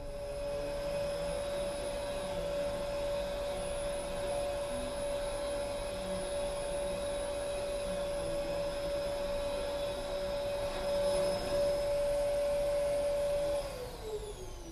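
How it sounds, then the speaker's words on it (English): A household vacuum cleaner, also called a sweeper, runs continuously and fairly close, a steady roaring hum with a high whistling tone that drops away near the end as the motor winds down. "Know what it is? It's a vacuum, or like we say in Pittsburgh, a sweeper."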